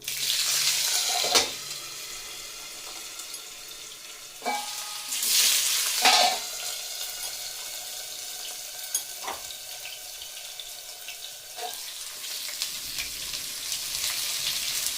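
Bitter gourd pieces fry in oil with a steady, bright sizzle, broken by occasional stirring scrapes and clatters, close and continuous throughout.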